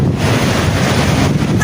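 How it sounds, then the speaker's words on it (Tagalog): Strong wind buffeting outdoors with no rain, a loud continuous roar and rumble pressing against the microphone throughout. "Wala siyang ulan pero ang lakas ng hangin"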